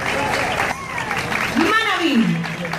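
Audience applause at a Miss Ecuador candidate presentation in Naranjal, clapping from the crowd running under someone speaking loudly into a microphone.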